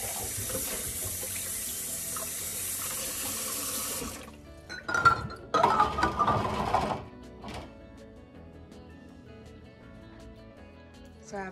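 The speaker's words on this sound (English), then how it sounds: "get my pot of water started" Steady running water from a kitchen tap fills a pot for about four seconds, then stops; clattering and handling noises follow, with quieter background afterward.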